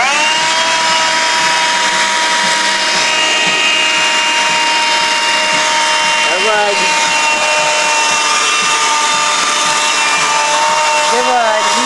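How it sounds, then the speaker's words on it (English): A vacuum cleaner runs loud and close with a steady whine while grooming a cat indoors, its pitch dipping briefly now and then as the nozzle moves over fur. "Now, you're just gonna finish vacuuming you."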